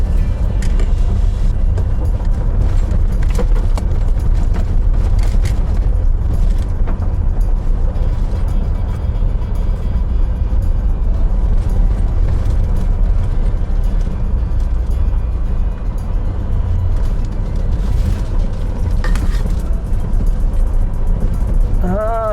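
Continuous motor rumble from vehicles moving along a rural forest road in Kanchanaburi, Thailand, loud and unbroken from start to finish.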